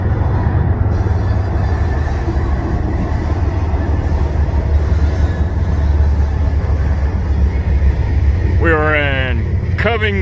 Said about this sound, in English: We're over here watching trains.